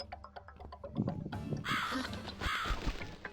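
Crows caw in The Cat Lady video game, two harsh raspy calls standing out over a quiet, dark ambient game background.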